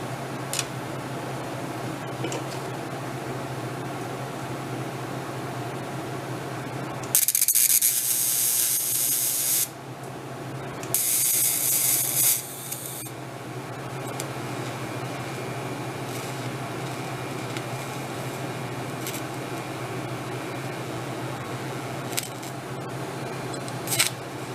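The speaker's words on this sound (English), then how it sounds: "we can copy and build up a little bit on the tip of that and then just kind of grind it away a little bit" An angle grinder grinding down weld build-up on a part from a 1931 Ford barn find, two loud hissing bursts of a few seconds each, separated by a short pause, over quiet shop background.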